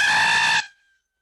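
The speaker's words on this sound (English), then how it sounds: "Let's hear the banshee's wail." A player voices a banshee's wail in a tabletop role-playing session, a loud, sustained, high screech held steadily for about half a second before cutting off abruptly into silence.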